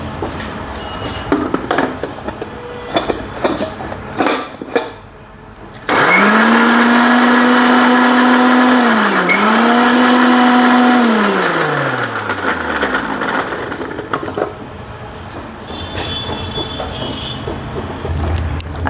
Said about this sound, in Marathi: हे आपण आता मिक्सरला वाटून घेऊ.